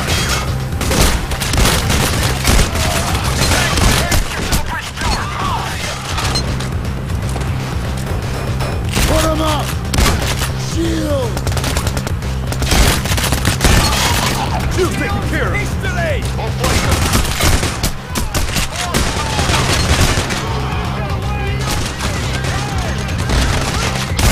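Gunfire in the heist shooter Payday The Heist, Green Bridge map: dense, continuous bursts of shots and booms over a steady background din, with players talking throughout.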